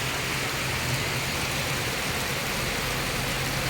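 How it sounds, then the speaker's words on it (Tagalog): Heavy rain pours down in a steady, dense roar that fills the whole scene, constant and loud without a break, with no one speaking over it. "Lakas ng ulan mga kapangit, grabe."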